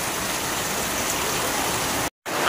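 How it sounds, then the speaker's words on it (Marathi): Heavy rain pours steadily outside a house, a dense continuous hiss heard alone that cuts out briefly near the end before resuming. "तर कसला पाऊस आहे बघा"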